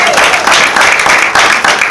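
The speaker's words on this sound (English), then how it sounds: "Clap one more time for yourselves." A seminar audience at a confidence summit breaks into loud, dense applause, many hands clapping at once close by, steady and filling the whole moment with no voices over it.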